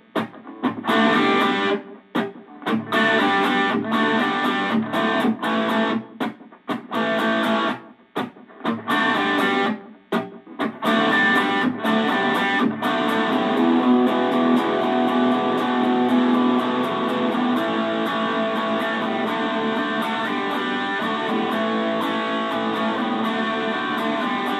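A distorted electric guitar plays a riff, repeated chord stabs with gaps at first, then ringing sustained power chords, loud and close throughout.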